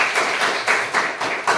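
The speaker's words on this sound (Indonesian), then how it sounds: "tepuk tangan untuk kita semua" A classroom of students clapping in short bursts, several quick rounds of applause rising and falling in pulses, close and fairly loud with no talk over it.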